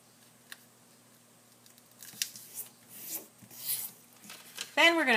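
Paper is folded for a two-colored origami pinwheel, with scattered soft creasing and rubbing sounds, close and intermittent, growing busier toward the end.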